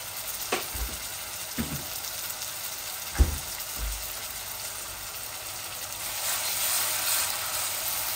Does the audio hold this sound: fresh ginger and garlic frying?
yes